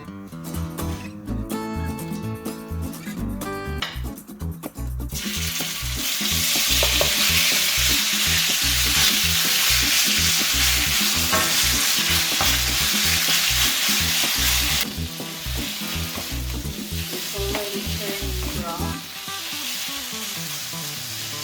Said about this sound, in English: On a high heated pan, I am going to add approximately 1 tablespoon of olive oil and our beef.